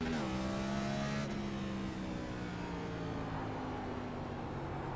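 Race car engines in iRacing's Fixed Cup at Martinsville roar together at the green flag, a dense continuous drone with engine pitch rising as the pack accelerates, loud and close throughout.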